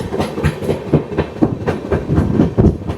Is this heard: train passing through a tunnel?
yes